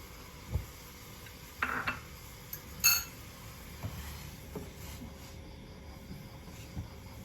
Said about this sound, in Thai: เราก็ค่อยๆคนไปนะครับ